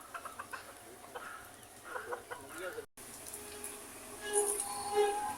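Native chickens cluck in short intermittent bursts, faint and close, amid rustling background noise, with a brief dropout midway and a thin tap-like trickle and higher chirps later.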